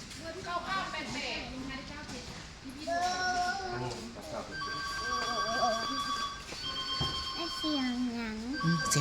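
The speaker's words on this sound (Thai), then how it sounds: "โทรศัพท์นั่น ใครโทรมาใครโทรมา" A telephone rings with a steady, repeating electronic tone in a home, while children and adults talk loudly over it throughout.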